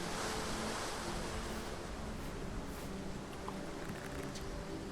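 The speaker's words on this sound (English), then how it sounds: "Boat sits ready to be released, lapping waves, reaching eagerly for its hull." In the fantasy RPG Ardenfall, gentle sea waves lap against a wooden boat hull on the shore, a steady wash of surf and water noise with no speech.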